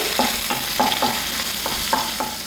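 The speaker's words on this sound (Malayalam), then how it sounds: "ഇത് നമുക്ക് ഒരു അഞ്ച് മിനിറ്റ് ഇളക്കി കൊടുക്കാം കളറൊക്കെ ഒന്ന് മാറി വരട്ടെ" Onion, garlic and green chillies sizzle in a pan for chilli chicken while a spoon stirs in quick regular strokes, about eight scraping beats over a steady frying hiss, close up with no talk.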